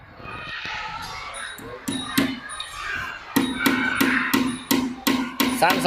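Repeated sharp hammer strikes driving nails into a wooden door, sparse at first then a steady run of blows, with distant voices and ambient noise underneath.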